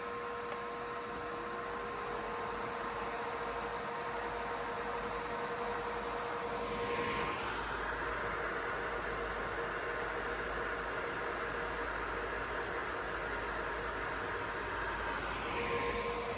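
A pair of Thermalright TL-B12 Extreme case fans run together at full speed, a steady loud broadband whoosh with a faint tonal hum underneath, unbroken throughout with no talking.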